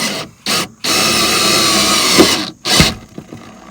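Bolts on the soft top of a 1992 Mazda Miata being tightened with a power driver, close loud whirring in a few bursts: two short blips, a long run of about two seconds, then another short burst.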